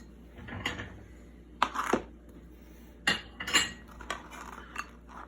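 Cheesy barbecue bread bites being set on a plate, with several distinct clinks and clatters of utensils against the dish in separate bursts.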